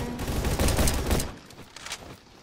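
Sniper and automatic gunfire in the Roblox-style shooter Bad Business: a dense, loud volley of overlapping shots for about a second, then thinner, scattered reports trailing off.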